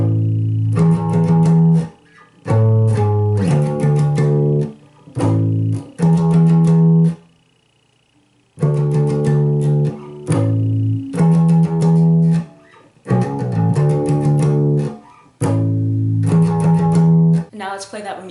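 Bass guitar playing a riff with improvised hammer-on and pull-off fills, heard alone in phrased bursts separated by short pauses.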